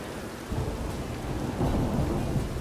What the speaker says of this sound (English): No, still raining.